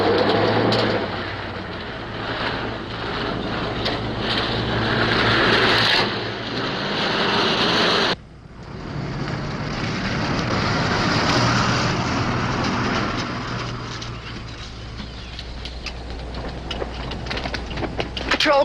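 A highway patrol car drives past, its engine and tire roar swelling loud, cutting off abruptly, then rising again as steady road noise with a low hum beneath.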